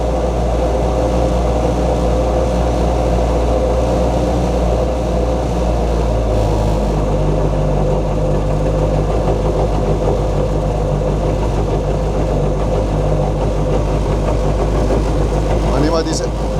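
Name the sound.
Toyota 4AGE rally car engine running on dyno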